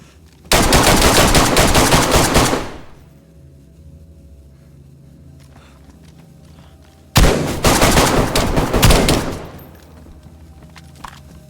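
Two sustained bursts of automatic AK rifle fire from the video game DayZ, each lasting about two seconds and loud and close, separated by a quieter stretch of low ambient hum.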